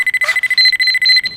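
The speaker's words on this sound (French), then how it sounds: "C'est quoi? Une alarme?" An alarm clock rings in a French animated cartoon, a loud electronic beeping that pulses in quick, even bursts and then holds steadier tones before cutting off.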